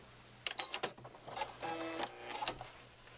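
Sewing machine stitching a throw pillow seam near a zipper, short close whirring runs of stitches broken by clicks and pauses, fairly quiet, with no talk.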